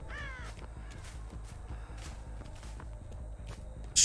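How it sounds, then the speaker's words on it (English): Crows caw in the video game Dead by Daylight, harsh calls rising over a steady rhythm of running footsteps, with one loud burst right at the end. "Stop birds, you're distracting me."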